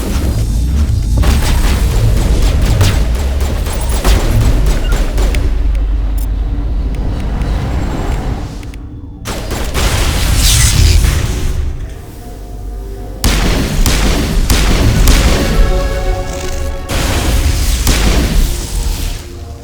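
Loud, dense gunfire and heavy booming explosions from a Mass Effect 1 firefight in a lab, nearly continuous across the stretch with a brief lull midway before blasts resume.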